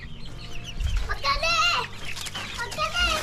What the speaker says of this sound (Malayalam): ഇതൊക്കെയാണ് കോഴിക്കുഞ്ഞുങ്ങൾ.